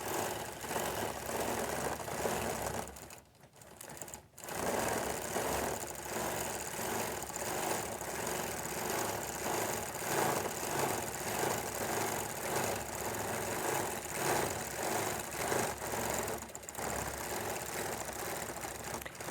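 A sewing machine runs steadily while free-motion stitching a fan quilt, its fast, continuous mechanical whir close and loud, dropping out briefly once before resuming, with no talking.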